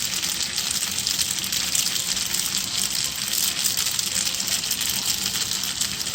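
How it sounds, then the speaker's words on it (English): Pasta water poured into a pan of lemon pasta on a turned-off stove, a steady close gushing splash that runs unbroken and loud throughout. "a little bit of the pasta water"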